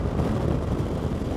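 Suzuki V-Strom 1000 motorcycle engine at around 4,000 to 5,000 revs, a steady low rumble mixed with wind buffeting heard from the rider's position, continuous and fairly loud throughout.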